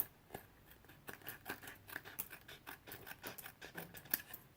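Scissors snipping through thin strips of paper for paper quilting, a quick run of crisp, close cuts in an irregular rhythm, with no voices over them.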